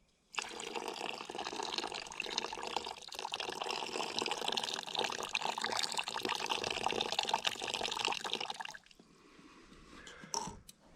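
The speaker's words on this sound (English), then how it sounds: "I've put that water from above, and that should bring the grains down." Water pours steadily over coffee grounds in a pot over a campfire for bushcraft coffee, a continuous close splashing trickle lasting several seconds before stopping abruptly, followed by faint drips and small clinks.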